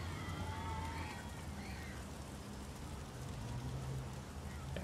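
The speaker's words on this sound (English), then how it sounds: "Yeah, the rain's starting to come down, isn't it?" Rain falls in the PS4 game Heavy Rain, a faint steady hiss of drops spread evenly under quiet game ambience, with no voices.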